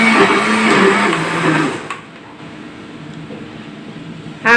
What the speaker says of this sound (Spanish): ahora la voy a licuar